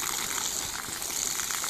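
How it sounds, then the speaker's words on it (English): A solar robotic pool cleaner spits water in a steady, faint splashing gush, continuous and unbroken with no voices. "you'll see the cleaner will start spitting out water"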